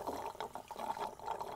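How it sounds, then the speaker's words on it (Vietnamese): Cartoon piglet children noisily slurp and bubble orange juice through their drinks, a brief, close run of wet gurgling and sipping sounds. "Hai đứa con uống nước ồn ào quá"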